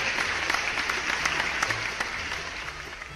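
Steady applause from a crowd, dense clapping at even loudness for a few seconds with no voices.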